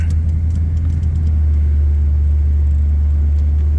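A car engine warming up idles with a loud, steady low rumble held close and unbroken throughout.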